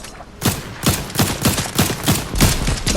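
Rapid volleys of gunfire from an SMG in a shooter video game, with rhythmic repeated shots across the clip, loud and continuous, with no talking over them.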